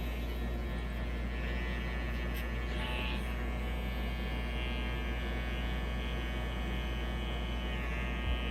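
An Andis cordless hair trimmer fitted with a deep-tooth GTX blade runs and cuts hair, giving a steady low electric buzz and hum throughout, fairly quiet and with no talking.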